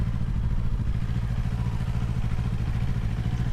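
A 2025 Yamaha R3 300cc motorcycle rides slow figure-8s; a close, steady low engine putter with a rapid pulsing rhythm continues throughout at low revs.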